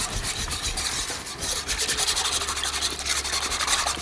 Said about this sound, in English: Then we have got about 2 cups of milk. And give that a good whisk.